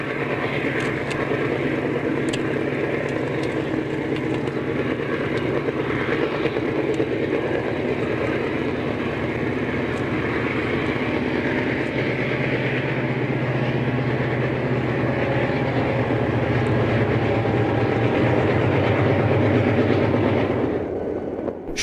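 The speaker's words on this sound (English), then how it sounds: "Here we see an eastbound cross the bridge with a trailer train." A long Santa Fe freight train with trailer cars rumbles eastbound across a bridge, a continuous low roar with rhythmic wheel clatter, holding loud throughout before cutting off at the end.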